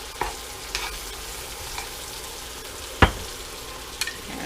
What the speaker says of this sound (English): There go our little squash and stuff. Put some butter on there.